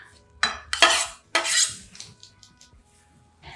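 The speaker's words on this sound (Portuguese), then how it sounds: "A cebola também, eu vou fatiar." A knife slices a small onion on a board, a few sharp, close chopping strikes with brief scraping in between, then tapering to quieter taps.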